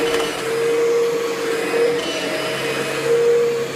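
Kirby G6 2000 Limited Edition upright vacuum cleaner running on carpet, a loud steady motor whine with a constant tonal hum and airy rush throughout, close up with no talk.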